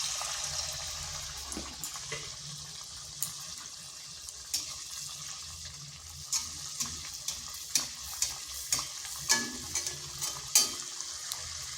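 Bakul pitha deep-fries in oil over a medium flame, a quiet steady sizzle with soft stirring clicks and scrapes that grow more frequent toward the end.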